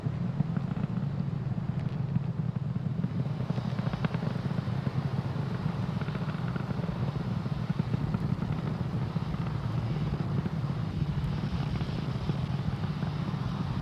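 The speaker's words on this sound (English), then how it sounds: "Falcon 9 has cleared the tower and is currently throttling down to prepare for max Q" Falcon 9 rocket climbing after liftoff toward max Q, a loud continuous low rumbling roar with steady broadband noise throughout, no speech.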